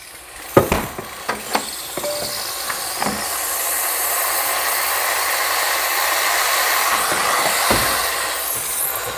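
A Breville Barista Express steam wand froths whole milk, a steady broadband hiss rising after a few sharp clicks and knocks and holding loud and continuous to the end.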